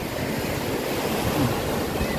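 Waves at Phayun beach in Rayong rush in a steady, broad wash of surf with some wind noise on the microphone, and no one speaks.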